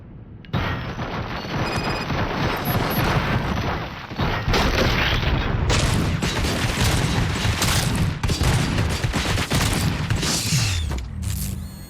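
Loud, dense gunfire rattles through a firefight in RoboCop: Rogue City, mixed with heavy booms and mechanical clanks, continuous and chaotic for most of the stretch with no speech.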